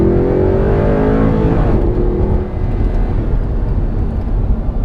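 The Audi R8 V10 engine roars loudly from inside the car at night, rising in pitch as it revs and then settling into a steady, deep drone with no talking.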